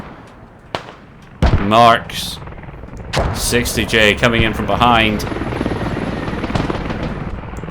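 Gunfire in a competitive Squad match: a sharp shot lands near the start, followed by busy battlefield noise under excited commentary from a caster.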